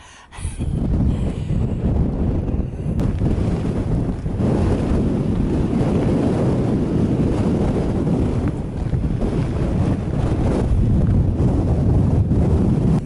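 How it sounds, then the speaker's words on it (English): Strong wind buffets the microphone on the open Kinder Plateau moorland along the Pennine Way, a loud continuous roar with gusting low rumble that lasts throughout, with no voices. "the wind might just have dropped enough to be able to speak, but maybe not"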